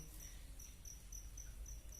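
Crickets raised on a cricket farm chirp in steady, rapid repeated pulses, a continuous high trill over a low background hum, with no voices.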